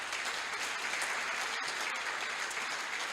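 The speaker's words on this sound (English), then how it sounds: "Okay, give them a round of applause." Banquet audience at a chamber of commerce dinner applauds sponsors, a steady, moderately loud wash of many hands clapping throughout, with no speech over it.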